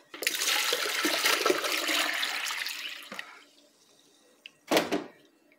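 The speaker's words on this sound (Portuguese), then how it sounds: "Agora eu vou começar a acrescentar água fria aqui" Cold water gushes steadily into a homemade floor-cleaner mixture for about three seconds, then stops, followed later by one brief splash.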